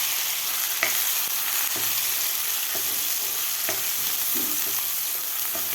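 Masala for egg curry sizzles steadily in hot oil on medium heat, with a spoon or spatula scraping and stirring it through the pan every second or so.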